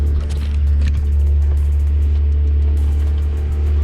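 Engines of a catamaran sailboat run at sea off Australia's east coast, a loud, steady low drone that holds evenly throughout without pause.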